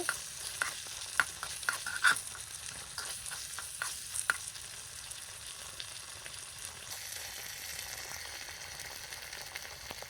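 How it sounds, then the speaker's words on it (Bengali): Egg biryani masala with turmeric, chilli powder, salt and spice powder is stirred in a pan. A spatula scrapes in a quick, irregular run of clicks over a steady sizzle, then quiets to a soft fry; no one speaks. "দিয়ে দিলাম মরিচের গুঁড়ো, স্বাদ মতো লবণ, মশলার গুঁড়ো দিয়ে আমি আবার সুন্দরভাবে নেড়ে নিব।"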